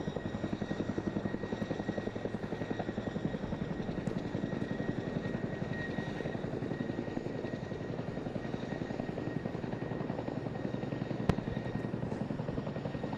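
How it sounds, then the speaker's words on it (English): Chinook helicopter at an airshow, a steady rhythmic rotor thump with engine whine, continuous and fairly distant, with no talk over it. "Now this aircraft you see in front of you today, Zulu Alpha 680, is currently the fleet leader for Chinook."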